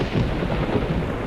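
Deep, steady rumble of thunder rolling continuously and fairly loud, with a faint wash of rain-like hiss above it, no voices.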